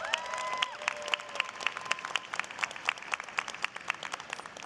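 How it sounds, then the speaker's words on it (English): A graduation commencement crowd applauds and cheers in a large hall, dense continuous clapping with scattered whoops, moderately distant and steady throughout. "please stand up and cheer loudly while we all applaud you"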